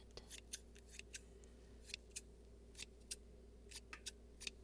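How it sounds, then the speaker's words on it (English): Scissors snip in a quiet ASMR setting, a string of crisp, sharp metallic cuts spaced irregularly, close to the microphone and isolated against a low background hum. "these aren't the good scissors"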